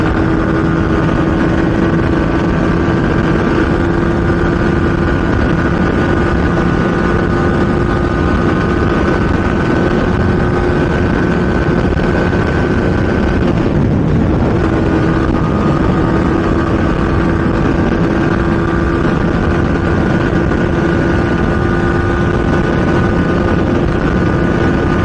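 A Yamaha R15M motorcycle engine pulls hard in fifth gear, a loud, continuous, close engine drone with a steady pitch, a brief dip partway through, and wind rush throughout.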